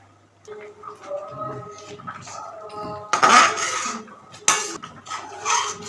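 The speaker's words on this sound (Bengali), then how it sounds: "এইভাবে সমানে নাড়তে হবে নাড়ি কিন্তু তলায় লেগে যাবে" A pot of Gobindobhog rice payesh, rice simmering in thickening milk, is stirred with a spoon, giving light scraping and clinking strokes that come in bursts, with a louder clatter in the middle of the clip. Speech is heard throughout.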